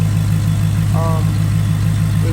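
A 2021 Dodge Challenger fitted with an 87mm ported throttle body and aftermarket air intake idles steadily with a deep, even rumble, close and loud, while a brief voice-like sound is heard over it.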